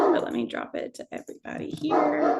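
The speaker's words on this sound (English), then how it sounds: "Sorry if you hear my dogs barking again." Dogs bark and yip in a home during an online meeting about learner records, with the barks scattered under and between a person's continuous speech.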